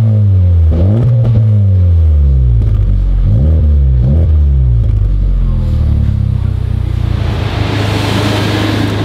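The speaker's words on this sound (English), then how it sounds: "Do you guys want to hear the exhaust?" A 2023 FL5 Honda Civic Type R with a Spoon exhaust revs up and down several times, deep exhaust roaring loudly and close, then settles into a rumbling idle with rising hiss.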